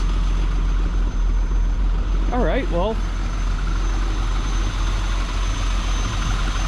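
A 1969 Mercedes-Benz 280SE Cabriolet engine runs at a steady, low, raspy idle, close and constant throughout, while someone briefly speaks over it.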